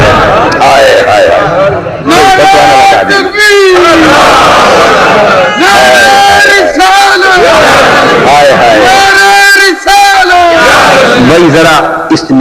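A large crowd chants a religious slogan in loud, close unison, the voices rising in repeated bursts separated by short breaks.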